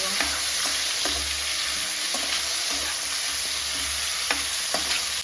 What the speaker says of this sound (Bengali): টমেটো লাল লাল করে ভেজে নেব